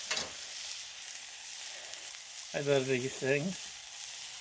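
Chicken halves on a Blackstone griddle give off a soft, steady sizzle that carries on alone for a couple of seconds before a person speaks briefly over it.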